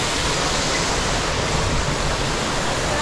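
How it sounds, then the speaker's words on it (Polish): Steady broadband roar of the Szklarki waterfall, a mountain cascade of rushing water heard close and loud, constant without breaks and with no voices. "Wodospad Szklarki."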